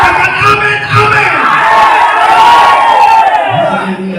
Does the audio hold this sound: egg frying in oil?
no